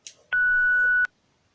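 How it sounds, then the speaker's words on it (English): A single flat, sustained electronic beep lasting under a second, loud and steady, with clicks at its start and end. "I'm gonna add a beep over this"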